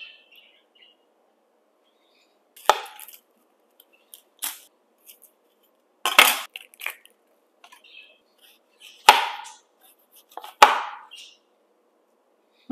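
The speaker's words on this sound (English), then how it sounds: "I'm going to cut my onions in rings or circles because that's just the way that I like it." A knife slices onions into rings on a board, giving sparse, separate crisp cuts spaced a second or more apart against near silence.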